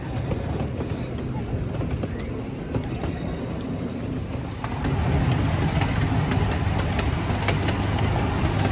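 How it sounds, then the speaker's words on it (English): Rumbling and clattering of the small Pioneer train amusement park ride at Knoebels rolling along the tracks through the woods, steady and close, with faint voices in the background. "Much more fun to take this train ride around sunset."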